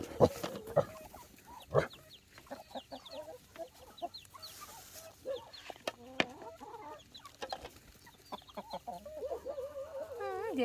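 Chickens cluck and squawk close by in a farmyard, irregular bursts of calls with a few sharp noises, while people talk quietly in the background.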